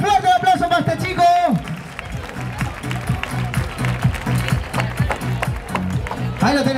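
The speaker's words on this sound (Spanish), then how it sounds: "Caseta, fuerte aplauso para este chico" Crowd in Casetas, Zaragoza, claps for a young man amid a loud announcer's voice, the applause rising as a broad rhythmic patter under the talk and fading in and out.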